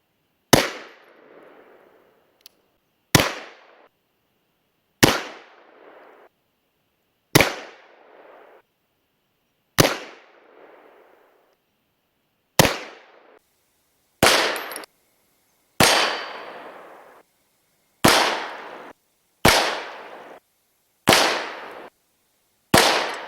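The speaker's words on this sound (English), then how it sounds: "I was shooting at the top drive." Twelve loud, sharp .44 Colt revolver shots fired at hard disk drives outdoors, each a crisp crack with a short decaying echo, spaced irregularly a second or a few seconds apart, with no talk.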